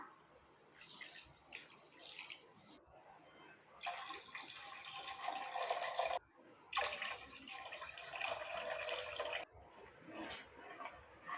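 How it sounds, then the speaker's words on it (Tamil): Water gushes into a cooking pan in three separate bursts with brief pauses between, close and steady, like a tap being turned on and off, while making sugar syrup for a coconut sweet. "ஒன்றரை டம்ளர் சர்க்கரைக்கு மூணு டம்ளர் தண்ணி ஊற்றிக்கலாம்"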